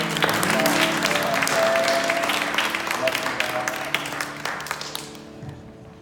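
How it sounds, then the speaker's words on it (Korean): A congregation applauds at a church baptism service, with dense, sustained clapping that gradually thins and fades, with some voices mixed in. "박수로 우리 축하합니다."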